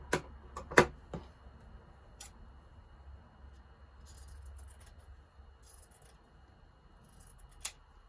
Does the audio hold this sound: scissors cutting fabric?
yes